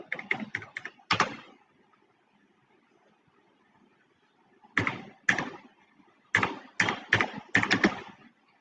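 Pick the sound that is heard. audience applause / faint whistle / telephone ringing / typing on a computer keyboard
typing on a computer keyboard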